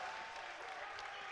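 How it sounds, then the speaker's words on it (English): Basketball crowd applauding and cheering after a long three-pointer in a men's cup semi-final, a steady broadband wash of clapping and voices, faint and distant throughout the short moment. "and the crowd go wild"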